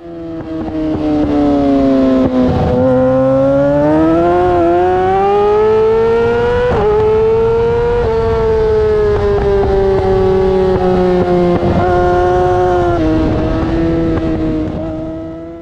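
A Yamaha R6 and a Kawasaki ZX6R sportbike race on a track at Podium Club, engines screaming loud and continuous in a high whine that rises and dips with gear shifts as one bike drafts and passes the other.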